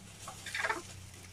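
A laying hen gives a single short warbling cluck, close and moderately loud over a low background hum.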